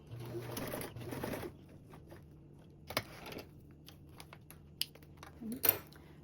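A sewing machine bastes a fabric sling strap, a steady run of stitching for about a second and a half, then quieter, with scattered light taps and clicks from handling the fabric.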